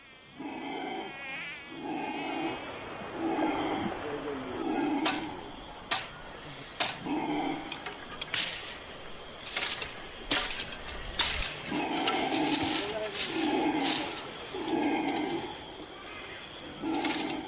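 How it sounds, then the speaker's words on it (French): Howler monkeys call repeatedly in deep, pulsing protest roars from a distance by a river, with sharp knocks and rustles of nearby activity in between. "Sous les cris de protestation des singes hurleurs"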